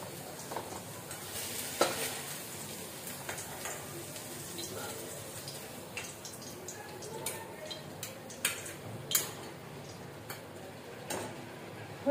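Okra and potatoes frying in a pan, a quiet steady sizzle with scattered light clicks and taps of stirring against the pan, heard close and soft.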